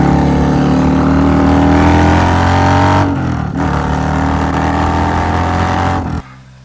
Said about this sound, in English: So, I bought a motorcycle.